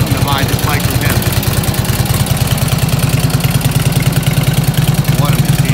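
A restored 1947 Indian Chief motorcycle engine idles close by with a steady, loud, even low thumping pulse, and a voice is briefly heard over it.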